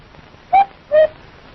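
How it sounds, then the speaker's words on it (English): A cuckoo clock sounds two clear whistled cuckoo notes, the second slightly lower and longer, loud and close against near silence. "Wasn't that the cuckoo clock?"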